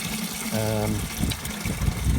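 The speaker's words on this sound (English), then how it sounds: "we're getting some water for the seeds. We're going to use tap water" Clean tap water runs in a steady gush, filled for watering seeds in a garden, heard close with a brief tonal hum and faint background voices.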